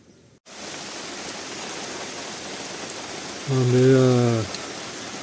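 A rain shower during a fishing session pours down as a steady, close hiss of drops on surfaces, with a short hummed or voiced tone rising briefly over it near the end.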